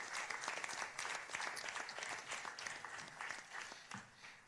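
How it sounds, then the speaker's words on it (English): An audience at a music-industry intellectual property event gives a round of applause, steady scattered clapping heard from a short distance, fairly faint and without talk. "Let's give her another round of applause, man."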